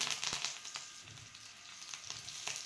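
Mustard seeds, red chili powder and coriander leaves sizzle faintly in hot oil as a tempering for rava dhokla, with crackling pops and light hissing bursts at close range.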